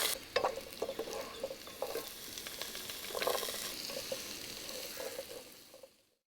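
Curry leaves and garlic frying in oil for a carrot pickle make a soft, crackling sizzle with scattered spoon stirs. The sound is close but fairly quiet and fades away at the end, with no talk.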